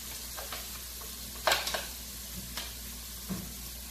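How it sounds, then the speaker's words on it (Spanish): Ground ham dropped into a sofrito in a pan gives a soft, steady sizzle with a few clinks of a utensil stirring, fairly quiet and close. "Ahora este jamón lo vamos a echar aquí en el sofrito."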